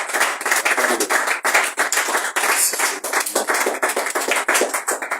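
A church congregation claps in fast, steady rhythm to acclaim God, the dense handclaps loud and continuous with no pause.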